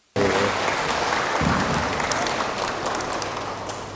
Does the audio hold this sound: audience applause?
yes